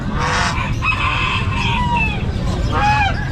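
A rooster crows loudly at an outdoor pet market in Bocaue, repeated crowing calls over a steady crowd and market din, with goose-like honks mixed in.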